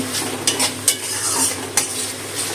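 Spice paste with water stirred in a pan for pointed gourd dolma with shrimp filling, a close sizzle broken by several sharp scraping clinks of a spatula against the pan, no voices.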